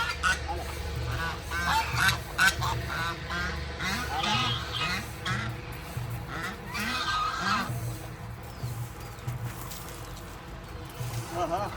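Ducks honk and quack in rapid bursts, close and loud, with a flurry of calls early on and scattered squawks later. Someone speaks intermittently over them.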